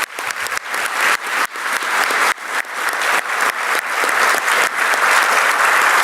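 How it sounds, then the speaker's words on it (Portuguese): Audience applause at a Caixa Econômica Federal event rises into a full, loud, continuous ovation of many hands clapping, building over several seconds and staying dense to the end, with no talking on top. "E eu gostaria de uma salva de palmas."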